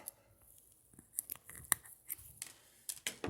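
Scissors snipping excess fishing line off a catfish rig: a few faint, sharp clicks and snips spaced unevenly in a quiet room.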